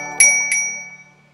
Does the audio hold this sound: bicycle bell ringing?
yes